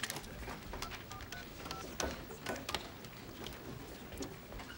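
A telephone number is dialed by hand, a quick run of short keypad presses and beeps over a faint hiss with no voices.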